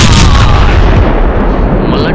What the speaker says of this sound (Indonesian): Langsung meledak tanpa tersisa ya cuy.